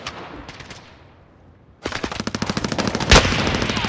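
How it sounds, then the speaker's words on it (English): Bursts of automatic gunfire in the Call of Duty Warzone Payload mode on Xbox Series X, an early scattered few shots fading out, then a dense rapid volley of close, loud shots continuing to the end. "Receiving hostile fire."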